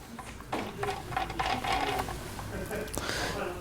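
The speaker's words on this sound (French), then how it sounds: "avec toujours notre cliquet et notre douille de 13" A ratchet with a 13 mm socket tightens a screw on a circular saw, giving a series of quick faint clicking bursts close up at low volume.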